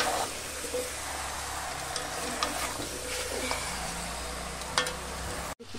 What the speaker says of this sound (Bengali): এভাবে ভালো করে মশলা দিয়ে কষাতে হবে।